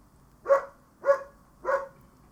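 In a snooker video game, a dog gives three separate, evenly spaced barks at a moderate distance, each short and clear against a quiet background.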